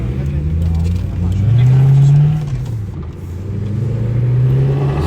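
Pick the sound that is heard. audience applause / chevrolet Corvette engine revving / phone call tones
chevrolet Corvette engine revving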